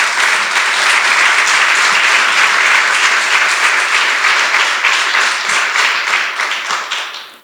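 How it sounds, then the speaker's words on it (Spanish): A church congregation gives a strong, sustained round of applause, dense clapping filling the room for several seconds before tapering off at the end. "Denle un fuerte aplauso, señora."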